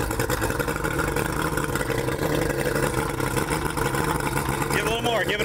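Close, loud Ranger boat engine running steadily during a test fire, its rumbling drone holding constant with a brief rise near the end as throttle is given, faint speech mixed in.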